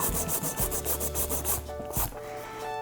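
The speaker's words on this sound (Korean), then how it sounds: "파일을 들어가 볼게요. 이제 처음에 길이를 살짝 다듬어 주세요." A nail file shaping the length of a powder nail extension, giving a close, loud run of rhythmic rasping strokes, about a dozen quick back-and-forth passes.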